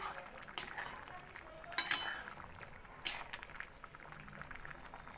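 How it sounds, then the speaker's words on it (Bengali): Metal spoon stirring soybean curry in a pot after ground garam masala goes in, with a few sharp clanks against the vessel over a low bubbling simmer, quiet and close. "তো আমি দিয়ে দিচ্ছি গরম মশলা, এবার ভালো করে নেড়ে নামিয়ে নেব"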